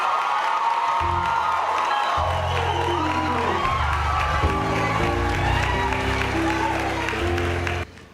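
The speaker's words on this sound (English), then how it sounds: "Let's give them a round of applause" A graduation ceremony crowd applauds and cheers the inaugural high school diploma class in Eleuthera, with sustained clapping, whoops and voices, while tonal music plays beneath throughout before cutting off abruptly.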